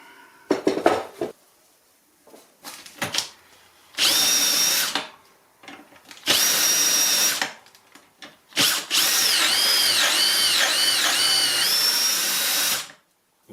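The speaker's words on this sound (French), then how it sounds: "et je perce." A power drill bores a hinge hole through a jig into a TV cabinet panel in several loud bursts of whirring, with clattering tool handling and knocks in between. Nobody speaks.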